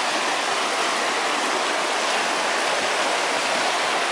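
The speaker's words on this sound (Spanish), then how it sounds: "un pequeño río." Small river called La Cueva in Tingo María National Park, Peru, heard as a loud, steady, broadband rush of flowing water that stays constant throughout, with no voices.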